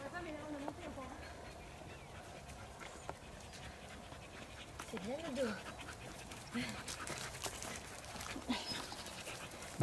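Dogs panting at a trail race, with soft rhythmic breaths and a brief whimper under outdoor chatter from nearby people.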